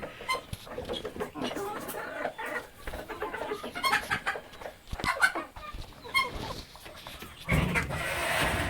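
Gramasree chickens cluck and call repeatedly in a busy yard, with scattered bird noises and a dog nearby; no clear speech.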